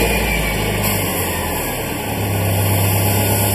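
A Subaru car engine fires up and settles into a steady idle, a continuous low rumble with a constant drone running through the whole stretch.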